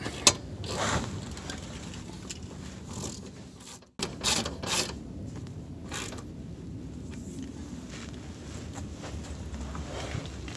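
A rear shock mount bolt being tightened on a BMW E46, with quiet, intermittent ratchet clicks and metallic creaks in a garage, separated by brief pauses.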